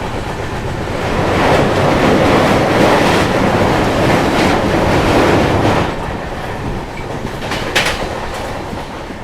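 Howrah Mysuru Express running on rails in the rain, a loud, close, continuous rushing roar with rhythmic clatter that swells midway and eases slightly toward the end.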